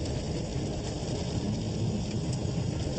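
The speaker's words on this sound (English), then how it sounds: "you start hearing the hammering sound of rain on the fuselage" Heavy rain drums steadily on an aircraft fuselage as a research plane flies into a hurricane's thunderstorms, a dense, continuous close roar with no pauses and no voices.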